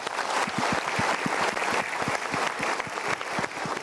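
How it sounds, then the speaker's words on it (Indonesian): Steady applause from a studio audience during a motivational talk show, continuous and fairly even, with individual claps standing out near the front and no speech over it. "kita berikan tepuk tangan"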